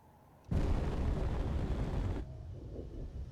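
A sudden loud missile explosion in the video game Space Engineers erupts, a dense rumbling burst lasting under two seconds before cutting off to a low, quieter background.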